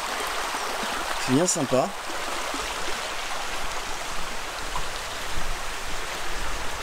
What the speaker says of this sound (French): Le petit bruit de l'eau.